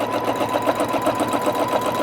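A sewing machine runs steadily along a quilting ruler, stitching a cross-and-feather design, its needle whirring in a close, even, continuous rhythm with no talk.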